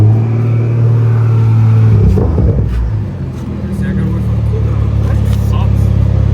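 BMW M340i engine droning and revving nearby with a deep rumbling, whooshing tone likened to an airplane, steady and loud throughout while people talk over it.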